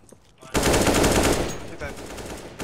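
Sustained automatic gunfire bursts loudly from a shooter video game, a dense rattling volley that fades toward the end with faint voices around it.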